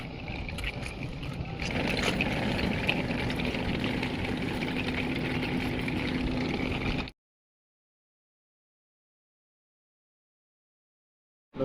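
A boat engine runs steadily on the water off Lakshmanpur Beach, Neil Island, a constant droning rumble with a low hum for about seven seconds before cutting to silence.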